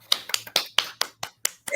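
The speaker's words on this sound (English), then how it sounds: "Let's give them applause, Phyllis." A few people clap for quiz participants in an anatomy and physiology class, giving about eight sparse, separate sharp claps over a couple of seconds, close by and fairly quiet.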